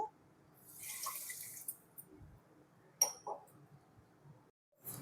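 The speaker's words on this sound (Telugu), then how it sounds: "మూడు వందల గ్రాముల మైదా పిండికి ఆరు వందల గ్రాముల పంచదార పడుతుంది త్రీ హండ్రెడ్ ఎంఎల్ వాటర్ వేసుకోవాలి" Water trickles and drips into a bowl of sugar for making syrup, a soft, close pour with a few faint splashes and knocks in a quiet kitchen.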